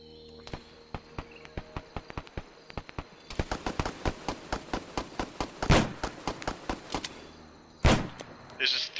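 A burst of rapid repeated detonations and gunfire-like cracks in Arma 3 during a demolition charge blow, dense sharp reports running through the clip with two heavier blasts near the end, voices talking over it.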